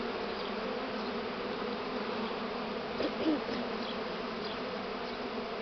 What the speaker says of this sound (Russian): Все, пчелы почти зашли.